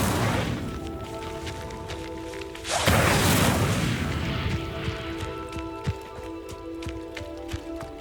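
Incendio fire spell in Hogwarts Legacy, a roaring burst of flame that erupts loudly, swells, then tails off into lighter crackling and thuds amid the game's ambience.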